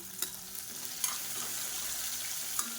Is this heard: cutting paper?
no